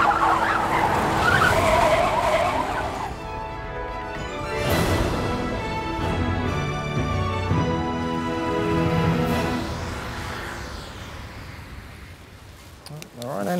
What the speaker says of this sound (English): Oh, Lord Jesus, it's a car!